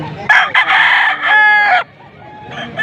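A young stag rooster crows nearby in a short, strained call with a brief break, loud and clear, ending abruptly before quieter background sound.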